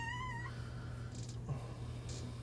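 A tortoiseshell cat gives one clear, rising meow at the start, close and fairly quiet, followed by faint rustling and handling noises.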